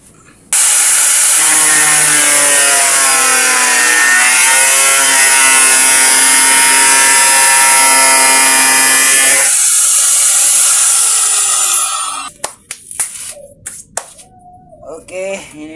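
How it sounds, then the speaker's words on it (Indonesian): An angle grinder cuts through a wooden piece for a homemade tool clamp, a loud, steady high whine lasting about nine seconds, then dying away into scattered clicks and handling knocks. "Pakai gerenda aja kita motongnya biar lebih cepat."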